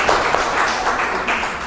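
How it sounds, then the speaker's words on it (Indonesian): Classmates clapping for a student group in a classroom, a dense, loud burst of hands that lasts briefly and holds fairly even. "tepuk tangan untuk kelompok 1"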